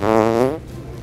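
A long, loud fart noise from a farting Easter Bunny prank, a buzzing, pitch-wavering blast lasting about half a second, then trailing off into quiet background.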